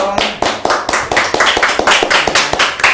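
An audience applauds to welcome a singer onto a Thai variety show stage, loud and close, with dense, rapid claps carrying steadily through the whole stretch.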